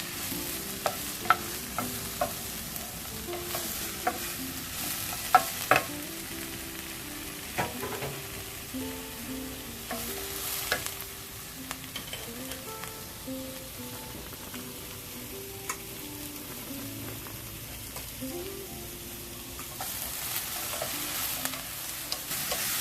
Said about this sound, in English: So I saute 1 minute for cabbage, and now we're going to add mushrooms.